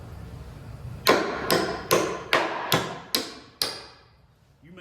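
A hammer strikes a nail seven times in a steady, evenly spaced rhythm. Each blow is a sharp, close crack that rings briefly and decays, and a quiet pause follows the last hit.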